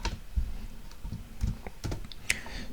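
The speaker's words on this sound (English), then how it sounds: "I can type in my text area." Someone typing on a computer keyboard, a quick irregular run of soft, close key clicks with a few sharper taps, quiet and without talk.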